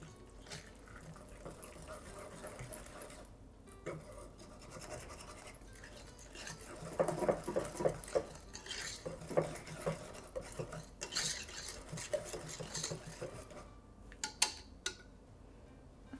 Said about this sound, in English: And just give this a nice mix.